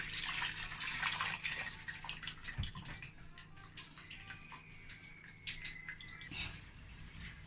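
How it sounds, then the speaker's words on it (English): Water pours into a pot while okra soup is being made, a continuous splashing, gurgling stream close to the microphone with no talking. "I'm going to pour water."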